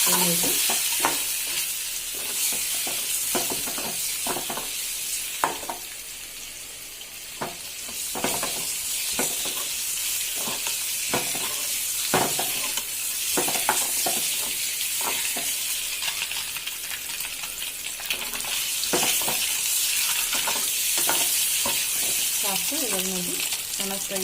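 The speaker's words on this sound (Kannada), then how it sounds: "ಇದು ಸ್ವಲ್ಪ ಮಧ್ಯದಲ್ಲೆಲ್ಲ ಕಟ್ ಕಟ್ ಮಾಡ್ಕೊಂಡಿದ್ದೀನಿ ಯಾಕೆಂದರೆ ಚೆನ್ನಾಗಿ ಫ್ರೈ ಆಗ್ತದೆ ಸ್ವಲ್ಪ ಚೆನ್ನಾಗಿ ಫ್ರೈ ಮಾಡ್ಕೊಳ್ಳಿ" Boiled eggs slit across the middle fry in oil in a pan for egg biryani, with a loud, steady sizzle broken by repeated scraping stirs of a spoon against the pan.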